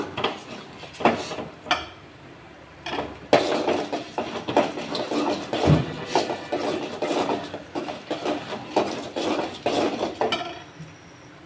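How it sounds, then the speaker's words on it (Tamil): Chana dal sautéed in a pan for thavalai adai makes rapid, irregular metallic clatter and scraping, with close spatula knocks against the pan repeating steadily throughout. "நான் கொஞ்சோண்டு கடலைப்பருப்பு போடுறேன் இதை வந்து நம்ம வதக்கிக்கலாம்"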